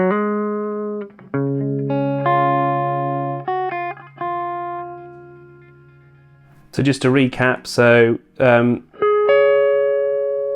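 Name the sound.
electric guitar chord with held distortion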